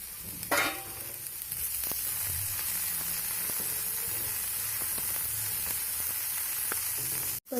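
Cooked beans with salt, stirred in a pan for a beans poriyal, sizzling steadily with scattered spoon scrapes and clicks, a sharp knock near the start and a clatter at the very end.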